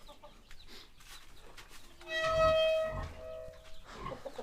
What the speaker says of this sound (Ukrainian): Ось тут у нас перепілочки сидять.